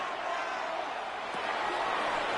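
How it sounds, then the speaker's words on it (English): Steady stadium crowd roar from a Madden football video game, a dense continuous wash of cheering that holds at an even, loud level throughout with no breaks. "This crowd turning up the decibel level."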